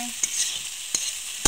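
Potatoes fry in a pan with a steady, bright sizzle, broken by three quick scraping stirs, and no voices can be heard.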